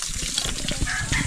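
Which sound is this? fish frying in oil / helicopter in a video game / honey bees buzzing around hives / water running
water running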